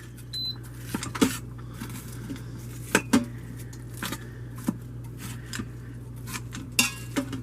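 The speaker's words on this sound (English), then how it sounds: "Cut my meat up some." Meat is cut up on a board beside a Pro Pot cooker in an RV kitchen: scattered close knife taps and clinks over a steady appliance hum, with no talking.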